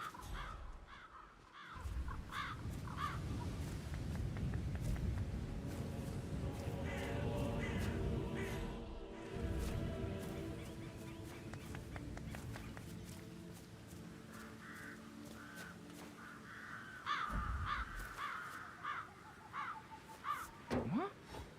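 Crows caw repeatedly in the video game Hitman 3, with harsh calls scattered through about twenty seconds over a busy background of game ambience and other noise.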